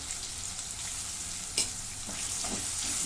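Garlic and green chilli paste sautés in a pan with a steady, close sizzle, broken by a few sharp scrapes and stirs of a spoon against the pan near the middle and end.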